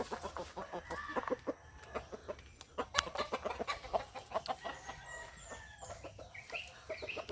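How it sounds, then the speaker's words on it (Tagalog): Tagalog chickens and young stag roosters on a backyard farm cluck repeatedly in short irregular bursts, close and fairly loud, with a few higher calls mixed in and no talking. "mga manok ko"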